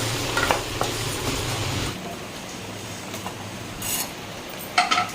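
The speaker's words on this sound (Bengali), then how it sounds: "মুগ ডাল তো একটু ভেজেই বসাতে হয়" Moong dal is dry-fried and stirred in a pan in a home kitchen, making a continuous close sizzle with scraping stirs that grows softer after a couple of seconds. A few sharp clinks of utensils come near the end.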